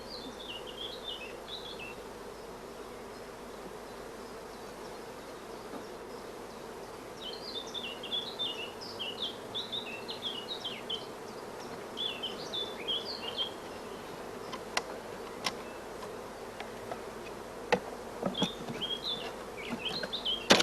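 Honey bees buzz steadily around hive frames being lifted from a brood chamber, a continuous low hum with small bursts of sharper activity, while faint birdsong chirps come and go in the background.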